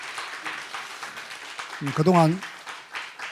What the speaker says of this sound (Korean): 자, 일어서서 우리 박수로 한번 축하하겠습니다.